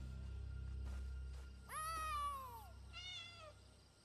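A cat in Elder Scrolls Online meows twice, the first call long and drawn out and the second shorter, both clear over a low steady background hum.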